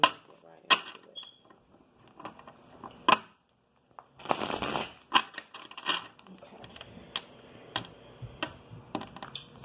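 Tarot cards being shuffled during a reading, giving soft riffling and tapping clicks in irregular bursts with a denser flurry midway, close and fairly quiet, with no talk over it.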